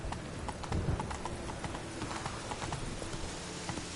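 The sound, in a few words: horse Roach galloping in The Witcher video game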